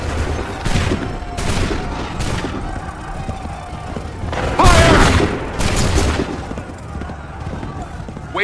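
Musket volleys crack out in Assassin's Creed III Remastered, several loud bursts of massed gunfire with the strongest near the middle, over ongoing battle noise and shouted commands.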